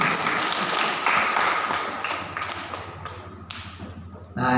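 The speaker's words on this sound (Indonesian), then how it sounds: "Tepuk tangan untuk Asofa." An audience claps steadily for a few seconds at an educational event about multiple intelligences. The applause is dense, close and loud, then thins out and ends in a final burst.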